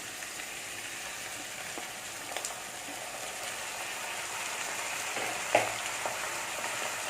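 Shredded cabbage frying in a pan for a cabbage and chana dal curry: a soft, continuous sizzle with light stirring and a couple of faint clinks, steady and fairly quiet, with no voices.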